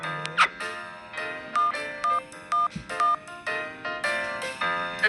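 A telephone plays a run of short electronic tones and beeps while a number is dialed, loud and close, with brief pauses between the tones.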